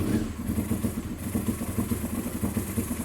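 A Honda RVF400 motorcycle engine runs unevenly at a fast idle, with a steady pulsing throb and mechanical clatter heard up close at moderate volume.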